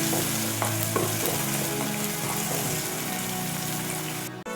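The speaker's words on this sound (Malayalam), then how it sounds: "ഞാൻ അടുത്തായിട്ട് കുറച്ച് കറിവേപ്പിലയാണ് ഇട്ടു." Curry leaves dropped into hot oil in a pan give a loud, close, continuous sizzle and crackle with some stirring, cutting off sharply at the end.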